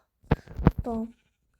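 Sheep bleat in a few short calls close by, with a voice talking among them, the last call stretching into a longer wavering bleat.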